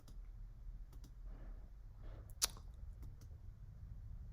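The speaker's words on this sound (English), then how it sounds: "So I'm going to click review changes" A computer mouse gives one sharp, close click in the middle of a quiet desk setting, with a few fainter ticks around it.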